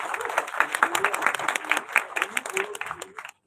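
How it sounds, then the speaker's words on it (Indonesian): A crowd applauds with quick, uneven clapping for about three seconds, then the applause stops abruptly. "Berikan tepuk tangan dulu dong untuk narasumber kita yang sudah di depan."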